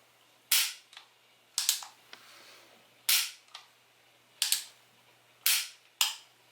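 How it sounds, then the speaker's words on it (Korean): The hammer of a light full-metal Beretta dummy pistol snaps down about six times in an uneven rhythm, each a sharp, close metallic click with a brief rattle, against a quiet background. "마루이 플라스틱 버전 가스블로우백 총보다도 훨씬 가벼운데 이 해머 소리만큼은 괜찮은 것 같아요"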